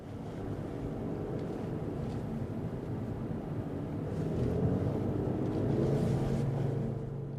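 A Mercedes-Benz C350e plug-in hybrid in sport mode: a steady, low engine and exhaust drone heard from inside the car, swelling slightly in the second half as it pulls harder, with no talking.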